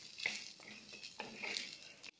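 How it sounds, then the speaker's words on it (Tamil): Cluster beans and green chillies sauté in hot oil, a soft steady sizzle broken by a few light stirring scrapes against the pan, faint and close. "கொஞ்ச நேரம் வந்து இது எண்ணெயிலேயே அப்படியே வதங்கட்டும்."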